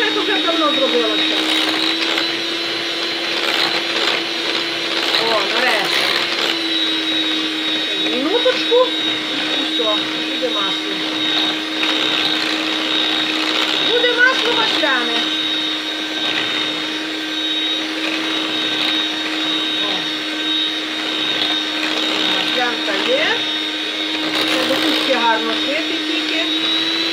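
An electric churn whipping butter from sour goat milk, its motor giving a continuous steady whine throughout, with someone talking over it at intervals.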